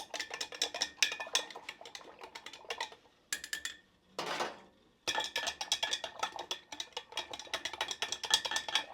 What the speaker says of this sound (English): I'm transferring dye over into the darkest jar